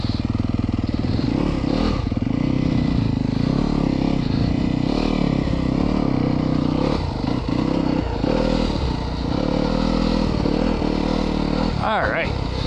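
A 2024 Yamaha YZ250FX race motorcycle engine running steadily and loud up close, with someone talking over the rumble throughout.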